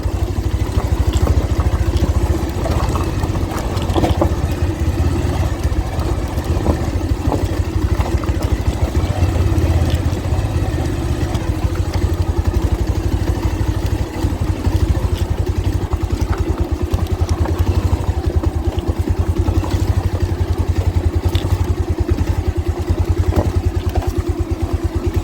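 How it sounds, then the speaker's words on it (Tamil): A vehicle engine surges forward once the brake is released, giving a loud, steady, rough drone with rattling clatter that runs without a break throughout. "பிரேக்லேருந்து கால் எடுத்தோடனே வண்டி ஆயம் காலை மாதிரி சீறி பாயுது."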